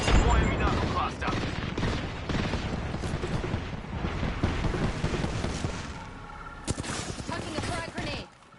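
Frag grenade explosions in a video game, several booming blasts with rumbling tails, loud and near, under frequent talk.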